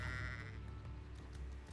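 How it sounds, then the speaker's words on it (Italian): Goats bleating in the Hogwarts Legacy video game, a steady wavering animal cry over game ambience that fills the short stretch at even loudness. "Capre!"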